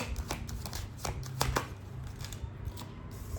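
Tarot cards are shuffled by hand, a steady run of soft papery flicks and taps over a low room hum, with a few brighter snaps in the middle before fading.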